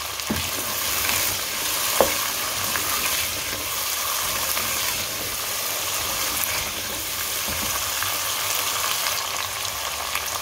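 Chicken karahi sizzles and fries in a pan while being stirred after garam masala goes in, a continuous close crackle with scattered scraping clicks of the spoon and no voices.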